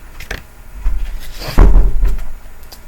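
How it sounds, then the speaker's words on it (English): A door swings and shuts with a solid thud and brief rattle, preceded by a few softer knocks and shuffles, all fairly close. "said Miss Spink to herself as she closed the door"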